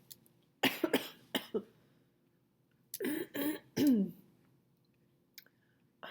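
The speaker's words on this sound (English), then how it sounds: "it's going to be marred by all my coughing" A person coughs and clears their throat in short harsh bursts, a few single coughs followed by a tighter cluster, close and otherwise surrounded by quiet.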